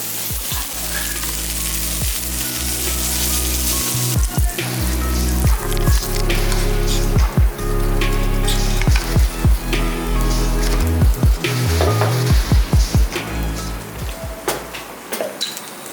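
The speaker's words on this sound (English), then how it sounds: "So traditional Korean barbecue." Meat sizzles loudly on a traditional Korean barbecue grill in a restaurant, a dense, close crackle like heavy rain, broken by repeated sharp thuds and knocks from utensils.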